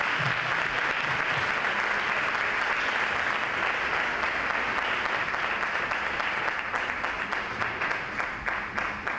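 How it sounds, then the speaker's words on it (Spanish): An audience at a song festival in Posadas gives sustained, dense applause, loud and continuous for the whole stretch and thinning toward the end into more distinct individual claps. "le damos un fuerte aplauso"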